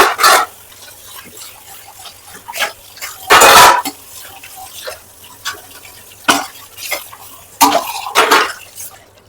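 Dishes, pots and steel tumblers being washed in a home kitchen, heard as scattered clatters and knocks with one heavy scrape and a few sharp bursts standing out over a quiet background.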